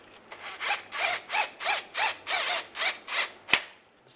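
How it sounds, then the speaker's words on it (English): A 13 millimeter socket tightening a bolt during rear main seal replacement on a 2007-2013 Chevy Silverado, about ten evenly spaced ratcheting bursts close by, then a sharp metallic click near the end, no talking. "And then we'll tighten this down. Using a 13 millimeter socket."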